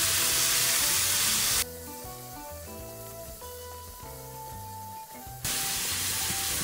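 Ground spices with red chilli and cumin powder cooking in a pan for a white-sauce lasagna, giving a steady loud sizzle that softens in the middle stretch and then swells back up.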